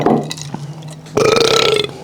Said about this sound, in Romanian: râgâi cu accent brazilian